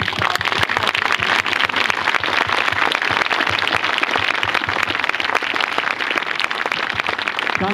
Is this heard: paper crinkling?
no